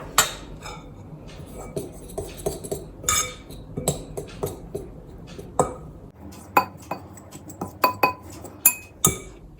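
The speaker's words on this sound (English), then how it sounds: "So I've mashed it in with the fork." A fork clinks and taps repeatedly against a bowl while mashing keto scone dough, giving sharp irregular metallic chinks close up, with no talk.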